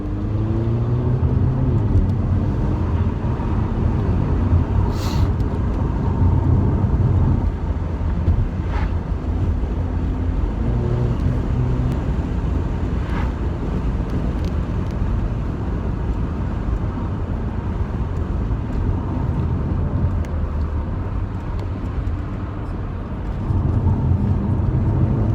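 A 2-litre Mercedes AMG car driving and accelerating, a steady loud rumble of engine and road noise heard from inside the cabin, with heavy wind buffeting and brief faint voices.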